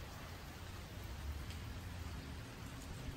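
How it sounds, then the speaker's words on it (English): Rain falls steadily outside as a faint, even hiss with no breaks, low in level and heard with no other sounds. "it's raining over the Sunday"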